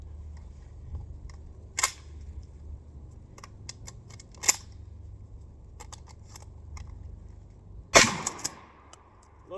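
A shotgun loaded with buckshot: scattered clicks and clacks of shells and action handling, a few sharp snaps, then one loud close blast near the end with ringing decay.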